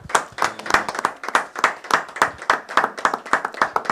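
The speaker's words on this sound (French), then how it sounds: "On peut acclamer le Seigneur." A church congregation applauds and acclaims the Lord, steady rhythmic hand clapping from many people, loud and close, with faint voices mixed in.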